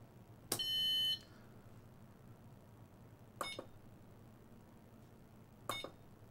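A handheld electronic game from 2022 powers on with a loud sustained beep followed by a burst of tones, then two shorter chirping beep bursts a few seconds apart over a quiet background hiss.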